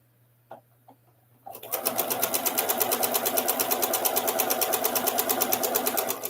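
Sewing machine stitching quilt pieces, starting after a few quiet clicks and then running at a fast, rapid, even chatter, close and loud until the end.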